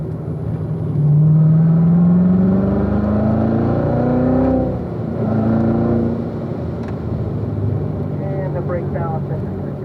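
A Corvette driven fast on a race track, its engine climbing through a long rising pitch, easing off, then pulling hard again, loud and close under an instructor's speech.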